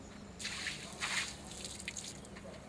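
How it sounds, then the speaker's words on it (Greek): Water rinsing over a surface being prepared for a Revinex Flex 2006 coating, heard as soft splashing and dripping bursts, fairly quiet and continuous, with no voices. "Εν συνεχεία ξεπλένουμε με νερό."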